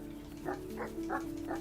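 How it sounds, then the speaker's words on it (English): A giant dog in the cozy farming video game EverDream Village barks in a steady series of four soft, muffled woofs over a constant low electronic hum. "a giant barking dog to make animals follow"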